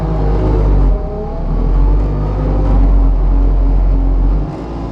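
Toolcat utility vehicle running in high speed while pushing snow, a loud low engine rumble with hydraulic whir that dips briefly and then holds steady before easing off near the end.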